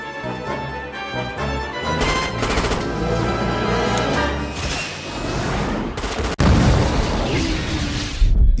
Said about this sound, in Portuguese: Mísseis foram disparados contra os traficantes, eliminando-os em uma grande explosão.